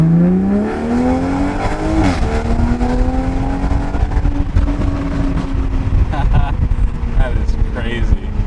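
A 2020 Toyota Supra fitted with an aFe intake accelerates hard, its engine note climbing through a gear change with intake roar and whoosh, loud and continuous from start to finish.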